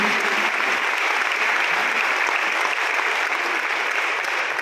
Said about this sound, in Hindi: एक बार पूरा सभागार इतनी जोरदार तालियां बजाए